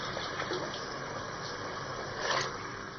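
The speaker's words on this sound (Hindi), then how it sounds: "½ गिलास पानी डाल के" Water poured into a cooking pan of sautéed peas and masala, a steady rushing splash with a brief louder gush near the end, no talk over it.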